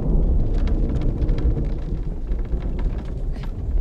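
Thunderstorm in The Infected video game: a loud, continuous low rumble of thunder mixed with steady rain hiss, no talking.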